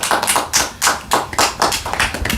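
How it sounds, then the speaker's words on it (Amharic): Audience members clap in a loose, uneven rhythm, about a dozen sharp separate claps close by with short gaps between them, and no talking. "ጨብጭቡላችሁ።"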